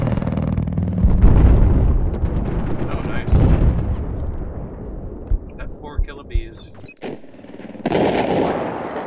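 A bomb explodes in the Battlefield 4 video game with a heavy, rumbling blast, followed by scattered sharp gunshots and crackling battle noise. Players talk over the game sound.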